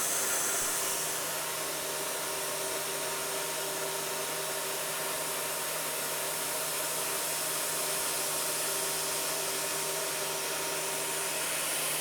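A CNC end mill cutting screws, heard as a steady loud hiss and whine with faint tonal hums underneath, continuous and unbroken throughout.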